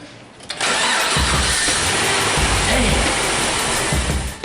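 A GM LS1 Gen III V8 in a car cranks and fires up, then settles into a loud, steady rumble close by that holds for several seconds.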